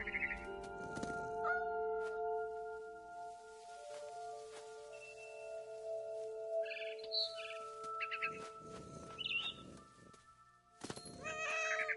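A cat meows in short calls against a steady tonal background, with a few chirps and thumps mixed in. It sounds fairly close and moderately loud, and no one speaks.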